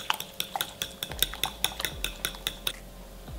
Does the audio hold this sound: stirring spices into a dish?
yes